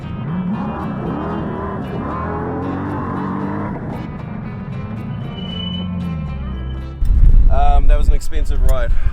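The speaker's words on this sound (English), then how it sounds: "So we had the chance to go for a ride in Dave Cole's Ultra 4 car." Ultra 4 off-road race car lapping rough desert terrain in Baja, a loud steady engine roar with rumbling and rattling throughout, then a sharper, louder surge of revving and clattering near the end.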